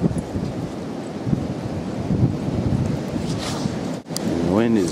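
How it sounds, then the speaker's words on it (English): Strong blizzard wind blows and buffets the microphone in a continuous loud roar, with a brief dip near the end. "And the wind is still blowing pretty good."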